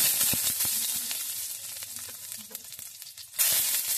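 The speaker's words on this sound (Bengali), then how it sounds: "এখানে আমি রসুনটা অ্যাড করলাম" Garlic hits hot oil already holding fried cumin and dried chili, crackling and sizzling close by with sharp pops and stirring scrapes, then swelling louder near the end.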